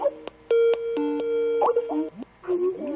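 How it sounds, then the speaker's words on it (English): A Skype incoming-call ringtone plays a series of clear, bright electronic chime notes in a quick melodic pattern, fairly loud and close, followed by a person making brief sounds as it ends. "Somebody's trying to Skype me."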